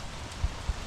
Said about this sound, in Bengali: বৃষ্টিটা আমাদেরকে একটু ডিস্টার্ব করছে